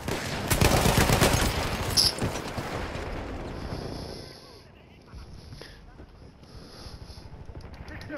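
Machine gun fire in the Battlefield 1 video game on the Argonne Forest map: dense rapid bursts that are loud at first, then fade to quieter, sparser distant shots, with players talking over the gunfire.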